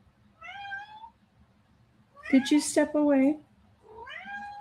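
A cat meows several times in loud, drawn-out, wailing calls, one long caterwaul in the middle, while a person speaks briefly.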